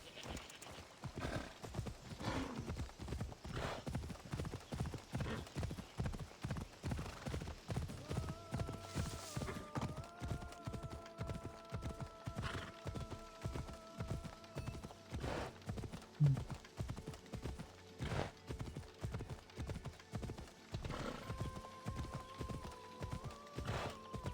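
Horse hooves clip-clop in a steady, even rhythm throughout in the video game Assassin's Creed Odyssey, with occasional tonal chimes and a brief whinny partway through.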